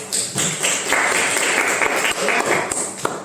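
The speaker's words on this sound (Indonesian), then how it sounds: "tepuk tangan untuk itu" Applause fills a classroom as students clap together in a dense, steady patter for a few seconds, close and fairly loud, with a voice mixed in.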